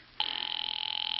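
A single telephone bell rings at close range, starting abruptly and holding steady with a fast, even trill, with no voices over it.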